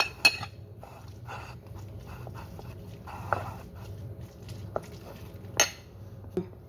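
A spoon clinks against a bowl while tuna sandwich filling is stirred, light clatters and taps recurring irregularly over a low room hum, with a few sharper knocks.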